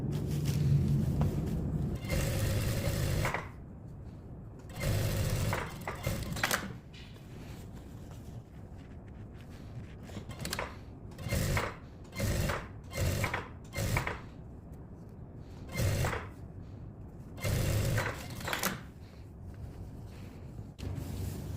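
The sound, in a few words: sewing machine stitching denim jacket back panel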